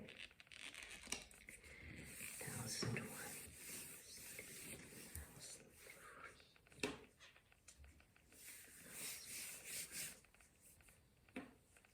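A laser-printed image transfer being rubbed by hand onto a gel printing plate, producing a faint continuous dry rubbing and scuffing with brief pauses and uneven strokes over several seconds.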